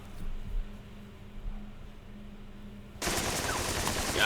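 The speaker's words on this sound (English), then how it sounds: "Got some MG42 fire." MG42 machine gun fire in a WW2 turn-based squad strategy game breaks out suddenly as a loud, dense burst of rapid gunfire after a quieter stretch of low rumbling ambience.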